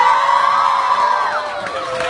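A crowd of fans at a Sandara Park event cheers and screams for Dara, a loud, sustained wall of high-pitched shouting that tapers off slightly toward the end.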